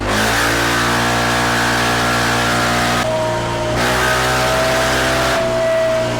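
A car fitted with an APR exhaust pipe revs hard on a dyno during an air-fuel ratio test. The engine drone is loud and close, with rising harmonic pitch, a short drop near the three-second mark, then another climb.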